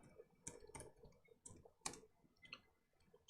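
Computer keyboard typed on at a day-trading desk for Nasdaq futures: sparse, irregular clicks and taps in small bursts, close up and fairly quiet, with no talking.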